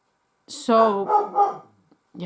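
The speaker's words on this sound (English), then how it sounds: "I've never seen my dog go so bonkers before." A dog barks excitedly in a few loud, close yips and barks in quick succession, then goes quiet before a voice starts at the end.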